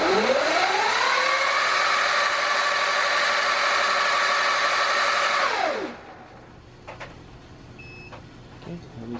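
An electric motorcycle motor on a controller test spins at high RPM with a loud, steady whine that holds level and then winds down sharply as the throttle is released, leaving faint background noise and small clicks.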